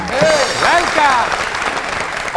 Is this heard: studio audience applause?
yes